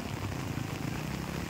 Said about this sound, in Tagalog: Nikusog na po ang ulan!